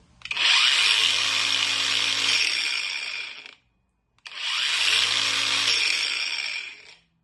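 A 20V cordless angle grinder from Temu runs in two loud, steady bursts of high-pitched whine of about three seconds each, separated by a short pause of silence, with no talking.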